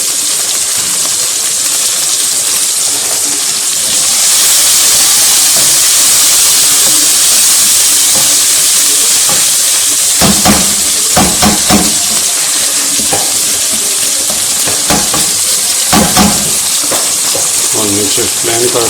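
Aloo bhujia potatoes frying in a pan, a steady hiss and sizzle throughout, with a few louder clatters of stirring toward the end.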